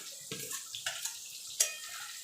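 Boiled banana flower stirred into spice paste fried in oil, a few soft scraping and clinking stirs of a spoon against the pan with a light sizzle underneath, close and alone.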